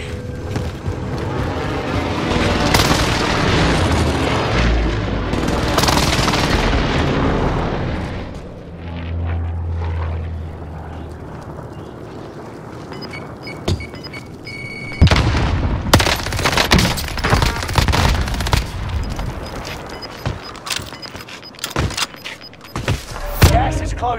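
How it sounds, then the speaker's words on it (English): Heavy explosions from a precision airstrike in Call of Duty: Modern Warfare, rolling booms and crackling blasts in dense bursts, loud and close, with a quieter lull midway before a second barrage of sharp impacts. "Enemy precision airstrike."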